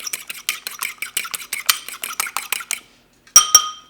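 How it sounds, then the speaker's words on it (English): A fork beats eggs in a bowl with quick, rhythmic clinking taps repeated about a dozen times, close and crisp, then after a pause two sharp metallic knocks against the bowl's rim. "Beat it up. Don't need a whisk, fork is fine."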